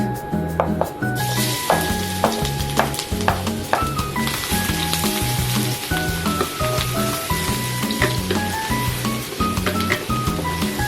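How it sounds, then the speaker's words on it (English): Ginger sizzling and frying in a pan, with steady crackling throughout and frequent stirring scrapes, close and fairly loud, with no one talking over it. "First of all, I want to fry the ginger first."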